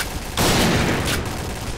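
Gunfire from the online shooter game Point Blank erupts as a dense, loud burst of rapid shots after a brief lull, continuing as a sustained rattle of fire.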